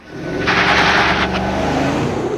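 A Chevrolet Tahoe launches hard in two-wheel-drive high with traction control off, its engine surging into a loud, steady roar with a roughening burst early on, close and without talk.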